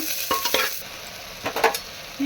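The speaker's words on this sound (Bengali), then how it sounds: "ডালটা দিয়ে বেশ কয়েকবার নাড়াচাড়া করে বেশ ভাজা ভাজা হয়ে গেছে" Red lentils with salt and turmeric being stirred and fried in a pan: a close sizzle broken by a few quick scraping strokes of the spoon, with no voices.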